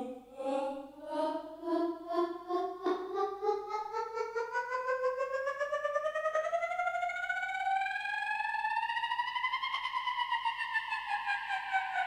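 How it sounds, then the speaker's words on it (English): An "accelerator" transition effect built in Bitwig: a synth tone climbs steadily in pitch while its LFO wobble speeds up, pulsing faster and faster before peaking and easing, heard alone. "another transition technique that I call the accelerator"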